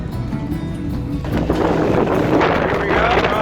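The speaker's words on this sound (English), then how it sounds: "Really windy today." Strong wind buffets a sailboat moored in a marina at La Linea, with sustained high winds and gusts; the roar grows louder and steady halfway through, rushing broadband against the microphone with no talk.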